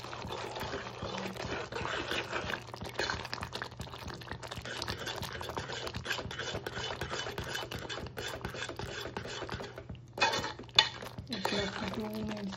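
A tomato and garlic curry being stirred in a pot, with continuous close scraping and clinking of a utensil against the metal that ends in a few sharper knocks.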